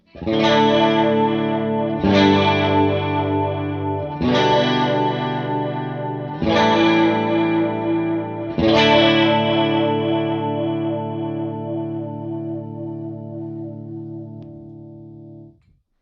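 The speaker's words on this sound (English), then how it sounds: "With the special switch in this mode, it kind of makes it sound more like a horn-like effect." Five sustained guitar chords through an Empress Nebulus chorus pedal in horn-like mode, the swirling chorus giving a brassy tone, each ringing out before the next, the last fading away.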